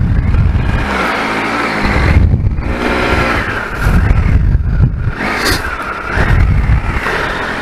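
Engine of a 2018 Triumph Tiger 1200 motorcycle rumbles loudly as it sets off from a car park, with swelling revs and a steady close drone throughout.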